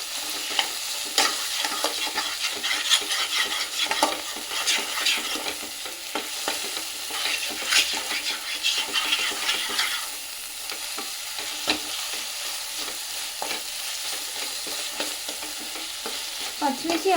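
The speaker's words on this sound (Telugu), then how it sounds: "పేస్ట్ ఫ్రై చేయడానికి ఆయిల్ కూడా ఎక్కువ పడుతుంది." Spice paste frying in a generous amount of oil for a fish curry, stirred steadily with repeated scraping and clinking over a continuous close sizzle, no voices.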